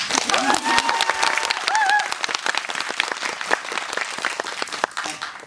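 Audience at a film premiere Q&A screening breaks into loud, dense applause that holds steady for several seconds, with scattered cheers and voices mixed in before easing slightly.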